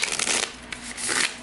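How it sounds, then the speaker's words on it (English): A thick, matte, slightly plasticky and stiff tarot deck is riffle-shuffled up close, giving a dense, crisp flutter of cards that swells, eases, then surges again. "I feel like it is going to be a little difficult to shuffle"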